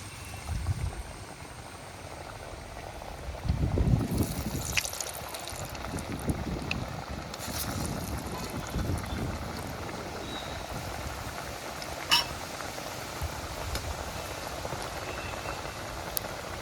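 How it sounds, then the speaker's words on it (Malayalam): Rice-flour snacks sizzling and bubbling in hot oil during deep frying over a low flame, a soft, steady crackle with a few louder spatters as pieces go in, close by and without talk. "എണ്ണ തിളച്ചിട്ടുണ്ട് അതിൻ്റെ അകത്ത് ഇട്ട് കൊടുത്തേക്കാം"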